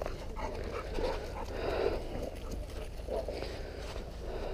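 Hunting dogs panting steadily and close by after a partridge shoot in the field, a continuous breathy rhythm with a faint whimper now and then, with no talk.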